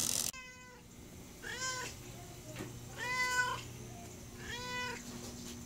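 A cat meows three times at even intervals, each call clear and close, with quiet pauses in between.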